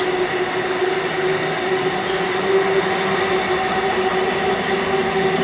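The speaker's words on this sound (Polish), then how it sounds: "Patrz ile jeszcze wagonów, zobacz." Loud continuous rumble and steady rolling roar of LOTOS Kolej freight train wagons passing close by, with a faint high tonal hum throughout and no talking.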